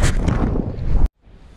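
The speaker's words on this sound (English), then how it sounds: "Sorry if there's any wind noise." Strong wind buffeting a microphone on a seaside fishing pier, heavy low rumbling gusts for about a second that cut off abruptly, followed by quieter, softer wind noise.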